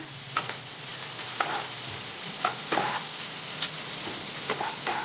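Chopped onions fry lightly in a pan for chilli paneer, giving a soft, steady sizzle broken by a few sharp scrapes and clicks of stirring, fairly quiet and close, with no talk.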